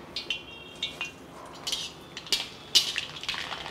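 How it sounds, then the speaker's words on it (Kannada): Mustard seeds dropped into hot oil in a pan while making milk upma, scattered sharp crackling pops and sputters coming in irregular bursts over a faint background hiss. "ಸ್ವಲ್ಪ ಸಾಸಿವೆ ಹಾಕೋಣ"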